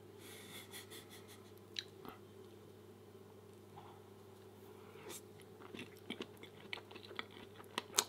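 Quiet, close chewing and crunchy bites of vegan omelette and flapjacks, with soft irregular mouth sounds and a few sharper clicks, no talking.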